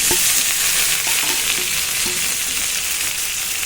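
Plantain slices frying in a pan with sautéed onion and garlic give a steady, close sizzle, with a few light clinks of a spatula stirring through the first half.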